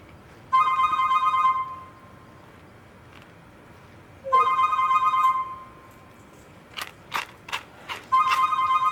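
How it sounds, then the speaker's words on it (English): A telephone rings indoors in a living room, three separate trilling bursts of electronic ringing with pauses between, interrupted near the end by a few sharp clicks and taps. "you get to listen to my phone ring"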